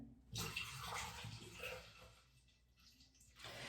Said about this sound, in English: Then I'm going to be filling a little bit of Pine Sol in here.